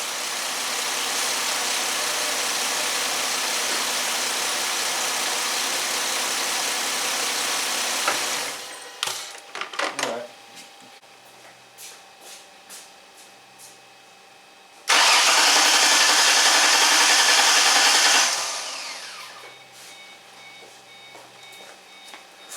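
A 2005 Ford Mustang engine with a misfire is cranked by the starter for a long steady stretch, then cranked again in a second loud burst after a pause filled with clicks and faint noises.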